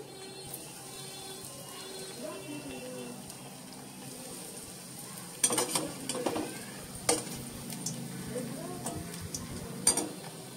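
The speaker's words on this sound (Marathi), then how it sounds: "या रंगावरती हे तुकडे तळायचे आहेत। आता मी तळून घेतो।" Bread pieces fry in ghee for shahi tukda, a soft steady sizzle running throughout with a few louder clatters and stirring knocks of a utensil in the pan.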